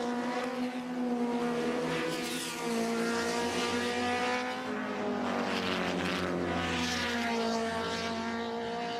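BMW M3 and Nissan Skyline touring cars race at Mount Panorama, Bathurst, in 1987. Engines howl loud and sustained, with pitch rising and falling as cars pass and shift, and no speech is heard.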